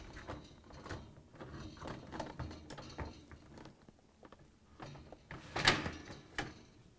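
A freezer door being lifted off a Whirlpool, KitchenAid or Maytag refrigerator gives soft plastic clatters, rattles and small knocks, ending in a sharper clunk, fairly quiet and close, with no talk.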